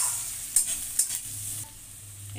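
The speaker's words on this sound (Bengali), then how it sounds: "এবারে পেঁয়াজটা দিয়ে দেবো। ভালো করে নাড়াচাড়া করবো, বেশি ভাজবো না এটা" Onions being stirred in a hot pan, a soft sizzle with a few scraping strokes of the spoon, close and fairly quiet, with no talking.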